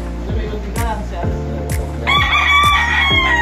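A pure White Kelso gamefowl rooster crows loud and close, starting midway through, over steady rhythmic knocking and background noise.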